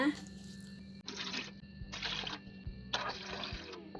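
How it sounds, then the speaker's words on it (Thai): Four cups of water pour into a cooking pot in three separate splashy bursts, close by, with brief pauses between them and a low hum underneath. "เทน้ำลงไปในหม้อเลยนะคะ"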